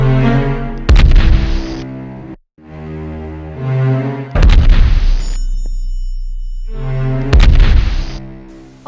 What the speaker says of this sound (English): On the first fire from the cannon,